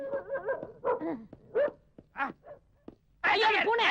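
A dog barks several times in quick yips and woofs, close and loud, with a voice calling out over it.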